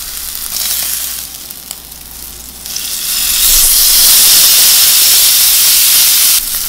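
A steak flipped in a hot skillet sizzles loudly and up close, the hiss swelling into a strong steady roar of frying after a quieter start, with no talking.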